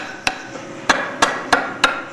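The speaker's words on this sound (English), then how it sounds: "The final splitting is still done the traditional way, using a hammer and chisel." Sharp hammer strikes on a chisel splitting slate into roofing slates by hand at a quarry, five distinct clinking blows in an uneven rhythm, close and loud with nothing else heard.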